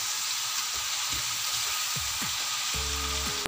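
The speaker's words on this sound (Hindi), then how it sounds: "अब ये माशाल्लाह से कितने खूबसूरत टिक्के फ्राई हो रहे हैं" Chicken tikka pieces, seasoned with black pepper, frying in hot oil as a continuous bright sizzle, with soft stirring knocks and clinks throughout and a louder clatter near the end.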